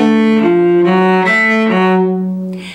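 A cello plays the opening phrase of a bluegrass solo: a run of connected, sustained bowed notes shifting pitch every half second or so, close and full, fading slightly at the end.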